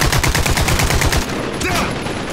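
Automatic gunfire from the Caliber shooter on the Al Rabad map: a fast, loud, steady burst of shots, then a pause and a few scattered rounds, with battle noise around it.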